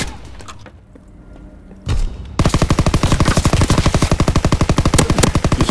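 Call of Duty gunfire on the Gustav Canyon map: a quiet stretch with a single thump near two seconds, then a loud, rapid, steady burst of automatic weapon fire running to the end with no pause.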